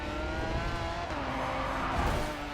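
A Bugatti race car in the GRID 2 racing game, its engine roaring loudly with a rising whine and tire noise as it drives through Dubai, continuous and close with no speech.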